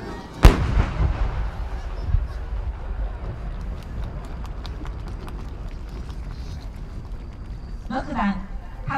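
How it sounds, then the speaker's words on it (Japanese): A loud chrysanthemum-type firework shell bursts with a deep boom at the Yatsushiro National Fireworks Competition, followed by a lingering crackle of smaller pops fading away, as an announcer speaks at the end. "菊型花火です"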